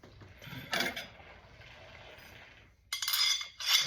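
New Heim joint being fitted with a 16mm socket on a drift car, a few sharp metallic clinks and ratcheting bursts separated by quiet gaps, close and alone.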